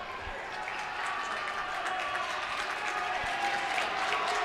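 Basketball crowd at a high school boys' game in a gym during a timeout, a continuous roar of applause and cheering that builds slightly, with a voice talking faintly underneath.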